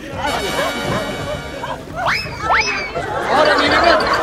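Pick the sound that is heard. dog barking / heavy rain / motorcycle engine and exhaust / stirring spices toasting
dog barking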